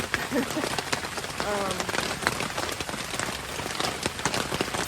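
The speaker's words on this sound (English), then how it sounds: "We're just going to sit here for a few days till this rain dies down and the sun comes back out." Steady rain falls without a break during a stopover on a bike journey, a dense, close hiss of drops drumming on a surface with scattered sharper splats throughout.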